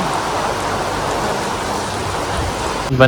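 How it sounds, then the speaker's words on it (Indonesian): Steady heavy rain falls on surfaces outdoors in Bireuen, Aceh, a dense continuous hiss throughout, loud and close, with a brief knock at the very end. "Terjebak hujan teman-teman."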